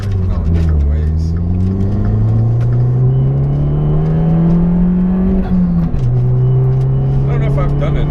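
Dodge Dart pulling hard at wide open throttle, heard from inside the car on a fun stretch of road: a loud, steady engine drone climbing in pitch through the gear, a brief shift, then rising again.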